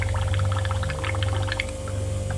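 An alcohol and water mixture backflushing out of a paint gun, a continuous gurgling, bubbling rush of liquid over a steady low mechanical hum, close and fairly loud throughout.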